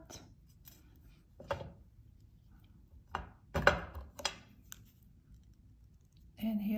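A few sharp, close snips of scissors cutting wire for jewelry links, separated by quiet gaps, with a brief burst of talk near the end.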